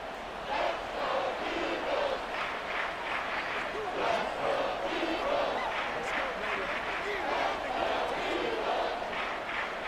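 Stadium crowd in the Madden 24 football video game during a Cardinals vs Eagles simulation, a steady loud roar of cheering and yelling building toward a big third down, with no break throughout.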